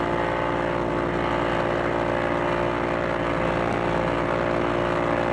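Steady, loud droning of a P-40E Warhawk fighter's piston engine and propeller in a VR flight game, running without a break as a dense, even roar with no talk.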